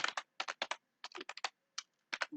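Java code is typed on a computer keyboard in quick bursts of crisp, close key clicks, with short pauses between clusters of keystrokes.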